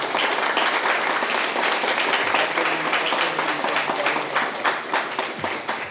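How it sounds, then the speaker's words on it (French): An audience claps warmly for the employees of the National Library of Haiti at an anniversary celebration, a dense, steady round of applause that tapers slightly toward the end. "je vous demande d'applaudir chaleureusement les employés de la Bibliothèque nationale d'Haïti"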